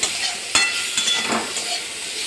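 Spices, including red chilli powder, sizzle softly in a frying pan while being stirred, with a few scraping strokes and light clinks over a steady hiss.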